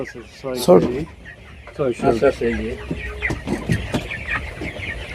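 Broiler hens clucking close by in short repeated bursts, several birds overlapping, with a few voices talking in the background.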